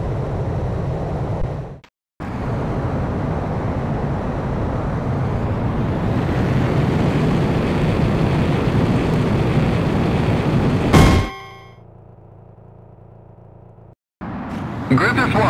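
An F-4 jet taking off in Ace Combat X, a loud steady roar of engine and rushing air that builds for about ten seconds, then cuts off abruptly into quieter cockpit ambience.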